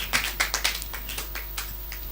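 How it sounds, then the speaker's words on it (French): A church congregation claps in a short burst, several sharp claps close together early, then looser, softer claps fading, without voices. "Let us applaud for the glory of the Lord."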